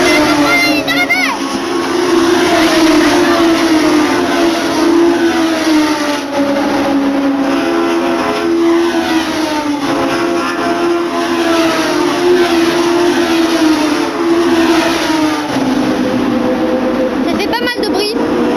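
Racing karts at a kart cup speed past toward the finish line, a loud continuous engine roar with rising and falling revs as they close in, under excited commentary and crowd noise.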